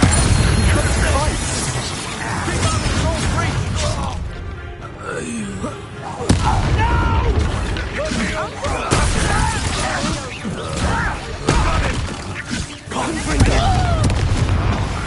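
A Bombarda blasting spell explodes in Hogwarts Legacy amid continuous loud battle noise, with booms and crashes under game voices shouting throughout.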